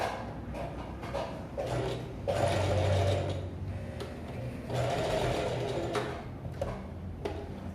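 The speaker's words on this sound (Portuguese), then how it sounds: "eu dobro ele para dentro e faço uma costurinha arrematando" A sewing machine stitches a folded-over seam on overlocked kimono fabric in bursts of fast, rattling needle runs separated by short pauses and clicks, close and fairly quiet.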